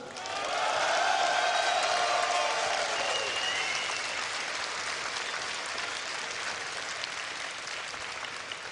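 Audience at an esports event at Assembly 2013 cheering and applauding, a loud wash of clapping that swells early with whoops, then settles into steady sustained applause.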